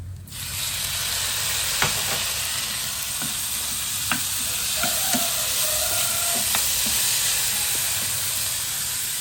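Chillies and tomatoes fry in a pan for chutney, giving a steady close sizzle and hiss broken by scattered pops and a few stirring scrapes, with no talking.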